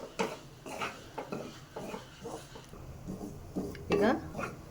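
Semolina (rava) dry-roasting in a pan, stirred with a utensil in a run of soft scrapes and clinks, close and fairly quiet, with faint background sounds in between.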